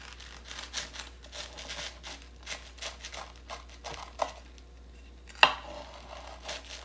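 A knife slicing through baked plant-based chicken parmesan strombolis into roughly one-inch pieces, giving soft crackling cuts and crinkly patters with a sharper crunch near the end, quiet and close.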